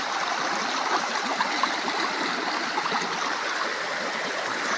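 Shallow, clear river water near Angono flows in a constant close-up babble and trickle, steady and moderately loud, with no voices.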